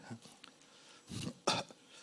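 A preacher imitating a cough during a sermon, a few short throaty coughs and throat-clearing bursts, close and fairly quiet, separated by brief pauses.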